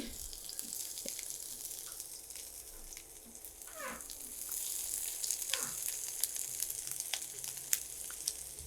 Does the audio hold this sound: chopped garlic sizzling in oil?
yes